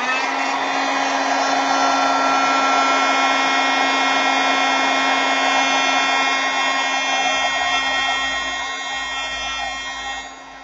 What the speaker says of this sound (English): So I'm going to heat set it first